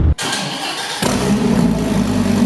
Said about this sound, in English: I'm gonna put in an exhaust clip of him starting the car up when it was in his warehouse